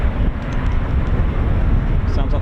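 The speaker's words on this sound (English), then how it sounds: "Yep, Spitfire's just having an engine run." A Spitfire runs up its engine on the ground at an RAF station, a loud, steady, dense rumbling roar filling the whole stretch without a break.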